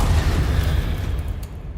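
A Confringo fire spell explodes in the Hogwarts Legacy video game: a single dull boom with heavy low rumble that decays over under two seconds.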